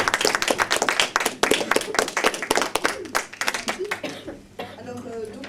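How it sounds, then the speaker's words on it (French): An audience claps for Béatrice Dominguez on a small stage, a dense burst of close applause that thins and fades out after about four seconds as a voice comes in. "On l'applaudit bien fort. Béatrice Dominguez."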